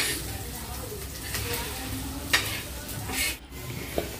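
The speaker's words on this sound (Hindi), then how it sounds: "अब डालेंगे हम जीरा और कड़ी पत्ता और कांदा। डालने के बाद इसे भी हम ब्राउन कर देंगे।" Onions, cumin seeds and curry leaves frying in oil in a pan for paneer biryani, a steady close sizzle with occasional stirring scrapes and small pops.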